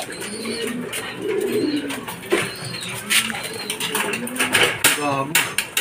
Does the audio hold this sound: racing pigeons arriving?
yes